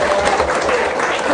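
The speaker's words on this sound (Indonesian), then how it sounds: "Tepuk tangan dong buat BNI." A campus orientation audience claps for the bank BNI, a dense, steady round of applause with crowd noise mixed in throughout.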